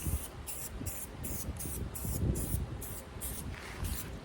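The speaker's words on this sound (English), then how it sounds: "They make a lot of really nice aerosols to make it easy to do small jobs like this" Aerosol spray paint hisses onto a galley overhead cabinet in a series of short, regular bursts, about eight close sprays laid down as thin coats.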